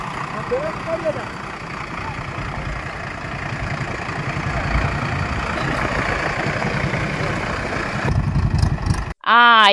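A tractor engine runs with a steady low, throbbing idle that builds slightly over several seconds, then ends in a brief louder burst. Voices can be heard at times.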